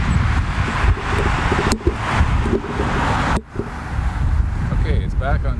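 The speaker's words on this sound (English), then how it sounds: "I know it's quite windy out here. In fact, I can see it actually shaking the microphone" Strong wind buffeting a Rode Stereo VideoMic Pro outdoors, a loud continuous low rumble with gusty surges and a sharp dropout midway.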